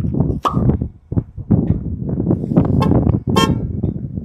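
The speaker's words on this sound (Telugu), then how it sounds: "హార్న్ కొట్టిపించాను అనమాట." Car horn sounded during a driving licence road test in America, a few short honks from a car amid cabin noise and movement, fairly close and loud.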